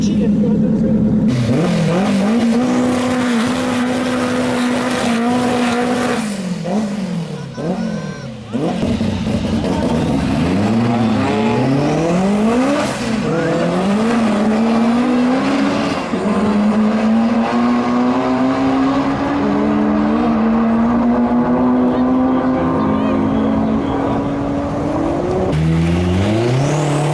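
An all-wheel-drive Mazda RX7 revs hard and pulls through its gears on a wet drag strip at Crail Raceway, the loud engine note climbing in repeated sweeps for the whole run, with voices talking over it.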